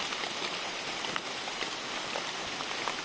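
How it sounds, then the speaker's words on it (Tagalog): Heavy rain falls steadily in a misty mountain forest, a dense continuous hiss of drops with no pauses, moderately loud and close, with no voices. "malakas na buhos ng ulan na ang aking hinarap"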